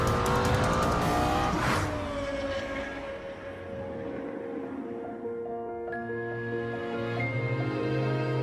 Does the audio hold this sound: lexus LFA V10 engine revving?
yes